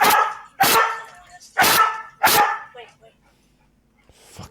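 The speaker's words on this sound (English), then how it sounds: "Fucking dog barking." Dog barking in short, loud, close bursts, four sharp barks with brief gaps, followed by quieter trailing sounds and a faint yip at the end.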